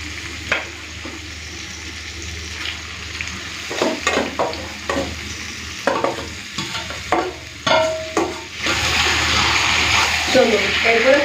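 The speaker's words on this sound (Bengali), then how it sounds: "হাই ফ্লেমে মাংসটাকে কষে নেব তো চিকেনটাকে কষে নিয়েছি ভালো করে" Marinated chicken is stir-fried on high flame, a steady loud sizzle broken by repeated scraping and stirring strokes, growing more intense toward the end, with a voice speaking at times.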